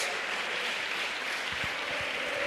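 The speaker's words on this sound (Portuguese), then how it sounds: "Você pode aplaudir o Espírito Santo de Deus" A church congregation applauds during a worship service, a steady, dense wash of clapping filling the room from start to finish with no voice over it.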